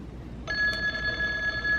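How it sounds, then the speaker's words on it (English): An Avaya J169 desk phone rings with an inbound call, a steady electronic tone that starts suddenly and holds on close and clear over a low room hum. "While the call is ringing on my phone"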